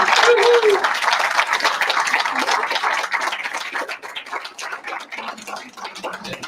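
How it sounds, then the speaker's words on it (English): An audience at a public talk on Iran gives a round of applause, dense broadband clapping that starts loud and gradually thins and fades, with a brief voice near the start. "how about a nice round of applause for"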